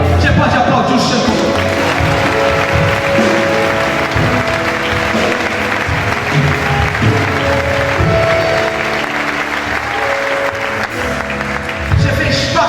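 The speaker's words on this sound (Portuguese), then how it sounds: "Você pode aplaudir o Senhor." A church congregation claps during worship, loud rhythmic applause mixed with music and voices, continuing strongly before thinning slightly toward the end.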